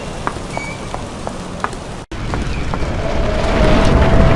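Heavy rain and a howling wind storm rage steadily in a video game scene, with a constant wash of rainfall that grows louder toward the end and no speech over it.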